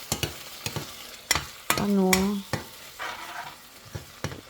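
Food sautéing in a pan with tomato and salt, a light sizzle under repeated clanks and scrapes of a utensil, with a brief tonal squeak or whine in the middle.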